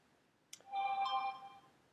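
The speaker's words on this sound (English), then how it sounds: "Sorry, that's my phone." A phone text alert chimes once, a short bright tonal melody lasting about a second, clear and close in an otherwise quiet room.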